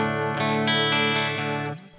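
Sustained distorted electric guitar chord through a Sonicake Cowboy distortion pedal, voiced for late-80s and early-90s metal, ringing loud and steady with a slight swell before cutting off abruptly near the end.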